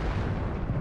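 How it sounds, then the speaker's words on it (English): Artillery shells land in a tank video game with Leopard tanks and Russian forces, giving a dense, continuous low rumble of overlapping impacts across a short burst, loud and without speech. "Artillery landing everywhere over here"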